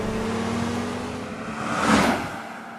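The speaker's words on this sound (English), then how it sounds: "It's a good engine, and when you get into the pedal, it really does find a decent amount of power." A Lincoln MKZ with a 3.5-liter V6 of over 260 horsepower accelerates under throttle, giving a continuous broad engine and road roar that swells to a peak near the end before easing slightly.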